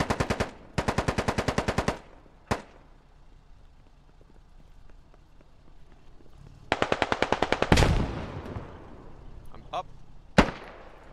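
Automatic rifle fire in the game Squad comes in two rapid bursts near the start and another burst later, with single sharp shots in between, all loud and close against a quieter background.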